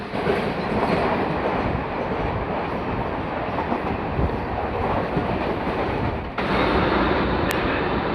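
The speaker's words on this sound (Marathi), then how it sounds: "आपण ही दादरवरून 10:45ची कल्याण लोकल पकडली 15 डबा" A 15-car Mumbai local train from Dadar to Kalyan running late, with a loud, steady rumble and rattle that continues throughout and dips briefly before resuming.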